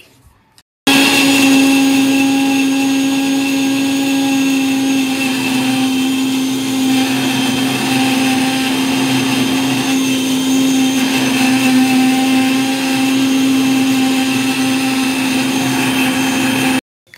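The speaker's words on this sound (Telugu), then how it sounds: "ఇలా అన్నీ కట్ చేసుకొని మిక్సీ జార్లో వేసుకున్న తర్వాత దీన్ని మిక్సీ అయితే పట్టుకోవాలి." A mixer grinder blends chole masala paste in its jar, giving a loud, steady, whirring motor drone for about sixteen seconds that starts and stops abruptly.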